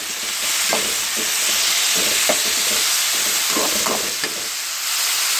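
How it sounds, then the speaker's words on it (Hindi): Chopped tomatoes being mixed into frying masala baingan in a hot pan: a loud, steady sizzle with repeated scraping stir strokes throughout, close up and without talk. "अब हम इसके अंदर टमाटर डाल देंगे।"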